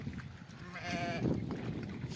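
A sheep bleats once, a short wavering cry at moderate distance over a low rumble of farmyard background noise.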